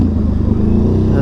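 An Indian FTR 1200 motorcycle with a new carbon exhaust idles and revs with a deep, loud, steady growl close by.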